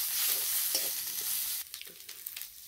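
Bhetkol (ghatkol) greens stirred in a hot pan, a steady sizzle with scraping spoon strokes that turn sparser and more distinct toward the end; no talking.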